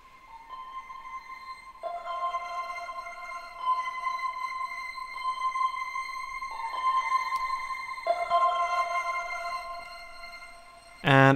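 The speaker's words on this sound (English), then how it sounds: "the last thing actually I found was kind of like a phrase in arcade, and this is what it sounds like" A dark, atmospheric synth phrase from the Arcade sample plugin, used as a beat outro, sustains layered tonal notes that shift every couple of seconds, steady and moderately loud with no voices, then a brief burst closes it.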